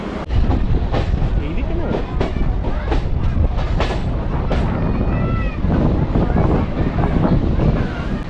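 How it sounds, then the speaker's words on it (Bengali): A Diamond Harbour local passenger train runs at speed, heard from inside the carriage: loud rumbling, rhythmic wheel clatter on the rails and gusts of wind noise throughout. "এই মুহূর্তে আমি আছি ডায়মন্ড হারবার লোকালে দুটো পঞ্চান্নই দুপুরবেলা ছাড়ার কথা এই ট্রেনটা"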